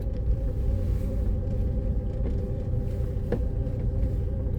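Cabin rumble inside a moving 2006 Toyota Noah microbus, a steady low engine and road drone with faint tonal hum and occasional soft knocks, no voices.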